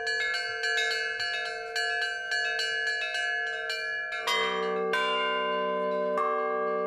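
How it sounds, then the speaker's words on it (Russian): Church bells peal from a belfry in the Nizhny Novgorod Kremlin, struck in a steady rhythm at first, then swelling into a fuller, denser layered chime with several bells ringing together, loud and clear with no voices. "по территории Кремля разносится колокольный перезвон"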